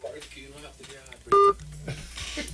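A phone gives off a loud dual-tone beep lasting about a fifth of a second, with voices talking before and after it.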